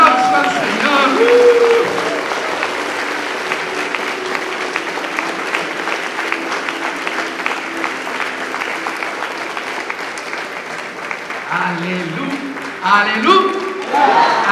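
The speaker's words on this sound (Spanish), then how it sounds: "démosle un aplauso al Señor" Church congregation clapping steadily for the whole stretch, loud and close, with scattered voices and a few shouts rising near the end.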